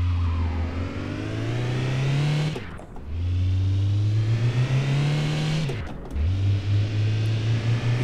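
A tuned VAZ 2114 in City Car Driving accelerates hard, the engine note climbing steadily through the revs, dropping briefly at two gear shifts and then rising again, loud and close with no talk.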